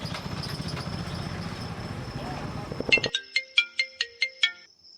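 A phone ringtone for an incoming call bursts in after ongoing talk, a loud, close electronic melody of about eight rhythmic, evenly spaced beeping notes playing alone once the voices stop.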